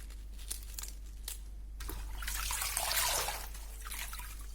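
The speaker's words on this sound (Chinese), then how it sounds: "油麦菜一定要清洗干净，这个根部这个位置一定要把它掰开，看里边有没有虫子或者是泥沙之类的" Leafy youmaicai lettuce rinsed under a running tap, a steady low hiss of water broken by soft crinkling splashes as the leaves are handled, louder midway.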